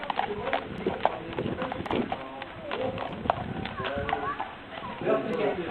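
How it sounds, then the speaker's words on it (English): Heavy horses run around loose, their hooves clip-clopping in an irregular patter under near-constant talking. "The horses are running around loose."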